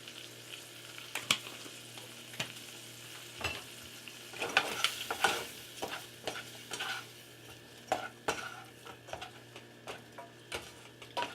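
Seasoned shrimp with salt, pepper and garlic powder sizzling in a frying pan, a soft steady crackle punctuated by sharp clicks and scrapes of stirring, close and moderately quiet with no voices.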